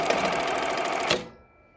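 Jack button sewing machine running a basic standard 2-hole button stitch, a loud close burst of rapid, rhythmic mechanical stitching that cuts off abruptly near the end, leaving a faint hum.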